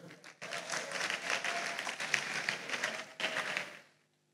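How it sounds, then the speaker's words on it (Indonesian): An audience applauds the Governor at a cabinet accountability report event, a dense, steady round of clapping from a crowd that swells after a brief dip and fades out near the end. "Beri tepuk tangan untuk Gubernur."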